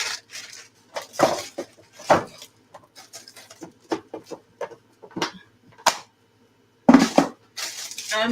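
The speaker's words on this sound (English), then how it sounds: "And then I'm going to mix my sauce," A sauce dip is stirred in a bowl, with scattered clinks and scrapes of a utensil against the dish, separated by short quiet gaps.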